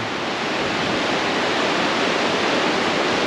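A river rapid on the Middle Fork Salmon, where the channel squeezes into a wave train, gives a steady, loud, close rushing roar of whitewater that holds unbroken throughout with no voices.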